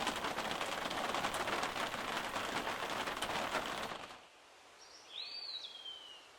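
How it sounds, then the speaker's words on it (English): Steady evening rain pattering in Sedona for several seconds, then stopping abruptly into quiet, where a brief bird chirp sounds. "the hail became rain again and lasted the rest of the evening."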